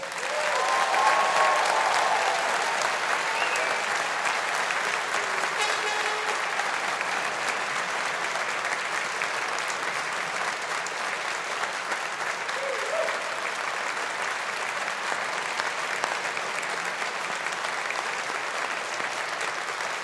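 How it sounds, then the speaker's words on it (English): A graduation ceremony audience for Strathclyde's Faculty of Engineering applauds the classes of 2020 and 2021 in a large hall, sustained dense clapping that holds steady for twenty seconds, with faint voices surfacing briefly beneath it. "let's give the classes of 2020 a big round of applause."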